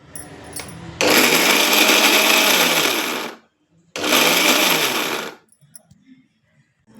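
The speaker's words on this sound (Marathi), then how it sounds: "ही पोळी आता आपण मिक्सरमधून काढून अशी बारीक करून घेतलेली आहे" A mixer grinder grinds leftover chapati pieces in two loud, whirring bursts of about two seconds and one and a half seconds, with a short pause between them and quiet before and after.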